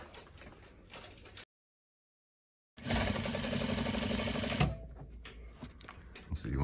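Juki DDL 8700 industrial sewing machine stitching, a fast steady mechanical whirr running loud for a couple of seconds after a brief silent gap, then fading into quieter handling noises.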